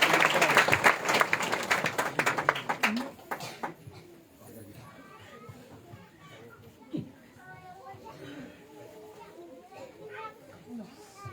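A church congregation claps loudly in welcome, a dense burst of applause that fades after a few seconds into children's chatter and murmuring voices.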